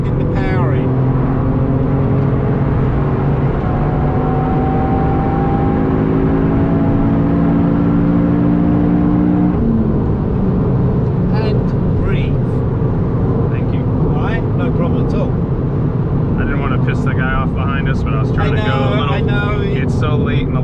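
Toyota Yaris GR engine pulling hard at the Nürburgring Nordschleife, a loud, steady in-car drone with rising harmonics that drop as the gear changes midway, while a voice talks over it.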